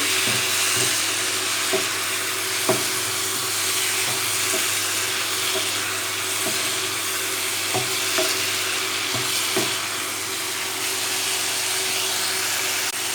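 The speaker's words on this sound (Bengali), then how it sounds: "স্বাদ মতো অল্প কিছুটা নুন ভালোভাবে ভেজে নিচ্ছি" Broccoli sabji fries with salt in a pan, giving a steady, dense sizzle close by, with occasional soft clinks and scrapes of stirring, no voices.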